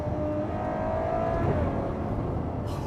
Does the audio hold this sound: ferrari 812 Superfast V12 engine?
yes